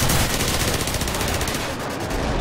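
Mini Uzi submachine gun firing in Call of Duty 4 multiplayer: a loud, rapid continuous burst of close automatic shots, rattling steadily for the whole stretch with no talk.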